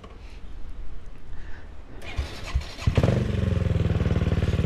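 Triumph Street RS motorcycle cranked over with a clattering starter, catching after a couple of seconds and settling into a close, loud, steady idle with an even rapid pulsing beat.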